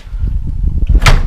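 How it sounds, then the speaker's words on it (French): A door swings shut indoors, closing with a loud, close thump and a brief bright rattle near the end, following a stretch of low rumbling room noise. "Le bruit que j'ai entendu, c'est la porte qui s'est fermée."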